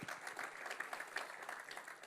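A church congregation applauding together in praise during a Spanish-language worship service, a steady dense wash of clapping hands sustained throughout at moderate distance, with no voices breaking through.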